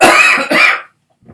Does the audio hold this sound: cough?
yes